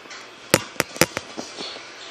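A Nerf Modulus Tri-Strike blaster fires with several sharp, close snaps in quick irregular succession, followed by softer clicks and handling noises.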